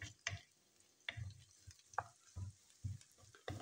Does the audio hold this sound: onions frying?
yes